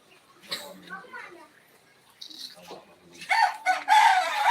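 Chicken crowing and clucking in short bursts, moderately close, with speech in between and a louder final crow at the end.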